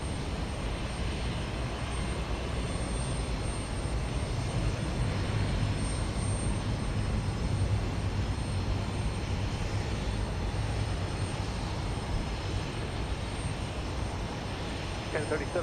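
A long-haul airliner taking off from Houston Intercontinental Airport, heard from a plane-spotting position as a steady, distant roar of jet engines that holds constant and unbroken throughout.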